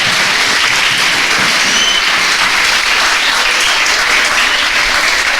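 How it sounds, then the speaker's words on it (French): Loud, steady applause from a crowd, dense and continuous clapping filling the whole stretch without a break. "Applaudissez pour lui. Clap for Moses."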